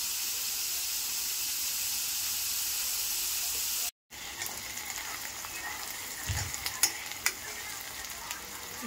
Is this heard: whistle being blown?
no